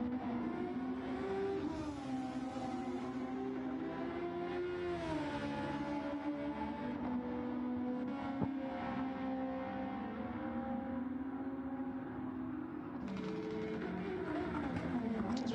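USRL SF1 single-seater race cars lapping during winter testing, a steady loud engine drone with shifting pitch as cars rev and pass, continuous throughout with a brief change near the end.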